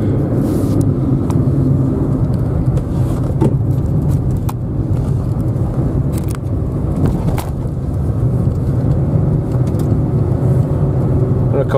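A Citroen Saxo with an old-style 3-speed automatic gearbox drives along, its engine a steady close rumble as it pulls through first and second gear almost unnoticed, with road noise throughout.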